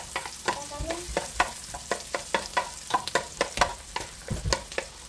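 Ginger and garlic stir-fried in a pan, with sharp spatula scrapes and taps on the metal landing in an irregular rhythm over a soft, steady sizzle, close and fairly quiet, with no talking.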